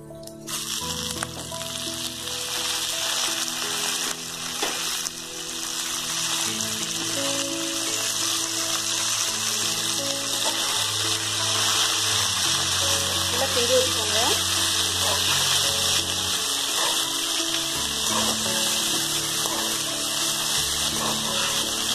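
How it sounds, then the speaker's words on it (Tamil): Curry leaves frying in a pan for a curry leaf thuvaiyal, a continuous loud sizzle and crackle lasting a long while, with occasional stirring and a voice talking over it. "நல்லா கருவேப்பிலை நல்லா வதங்கணும்"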